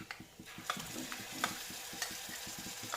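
Onions frying with ginger, garlic and green chilli paste are stirred in a pan, a soft steady sizzle broken by rhythmic spoon scrapes and light taps against the pan.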